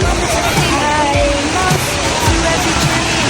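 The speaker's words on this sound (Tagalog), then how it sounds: "Wow, yun ang falls, oh!" Hinulugang Taktak waterfall in Antipolo, Rizal, a loud, steady rushing roar of falling water filling the scene, with people chattering and exclaiming over it.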